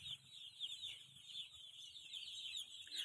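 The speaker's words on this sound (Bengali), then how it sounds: "পাখিগুলো খাবারগুলো খুঁটে খুঁটে খাচ্ছে" Poultry chicks in a winter brooder house peep in a continuous high chorus while they feed on scattered food. The sound is faint and distant, with a soft low hum beneath it and no talking.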